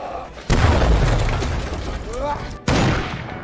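A film battle scene explosion where a soldier blows himself up: a sudden loud boom bursts in and rumbles on, followed by a second sharp blast near the end, over a dense layer of score and effects.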